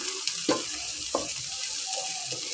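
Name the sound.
onions frying lightly and being stirred in a pan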